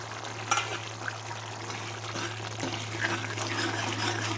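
Paneer bhurji with peas frying in a pan over a stove at full flame, giving a steady, close sizzle with scattered crackles and soft stirring scrapes.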